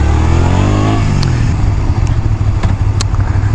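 A delivery motorcycle rides along a road, its engine droning loud and close with a rising then settling pitch as it shifts, over steady road and wind rumble.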